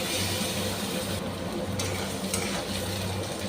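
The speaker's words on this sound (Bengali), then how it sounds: "এরপর আমি আলু আর পটলকে ওই তেলের মধ্যে ভেজে নিচ্ছি।" Chunks of potato and pointed gourd fry in darkened oil, giving a loud, dense and continuous sizzle that stays close and steady throughout without any voices.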